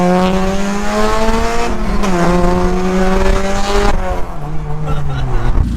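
A jump-started Audi 3.2 Quattro engine runs loud and close, a steady throaty hum with small rises and dips in pitch, and voices murmur faintly over it.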